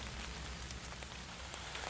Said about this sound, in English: Rain's coming down now.